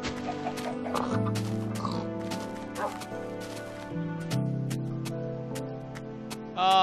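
Chickens clucking in the Minecraft video game, several brief clucks scattered over continuous background music, near and fairly clear.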